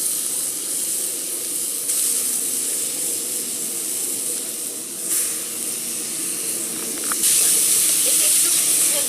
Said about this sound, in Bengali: এবার আমরা মূলো আর আলু যে কোরানো ছিল সেইটা এর মধ্যে ভেজে নেব।